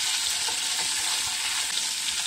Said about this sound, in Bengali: মাছগুলো এক পিঠ ভাজা হয়ে গেছে,